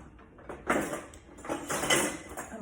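Meatballs dropped into sauce in an Instant Pot, two or three soft wet plops with a faint clink of the pot, close and moderately quiet, with no talk.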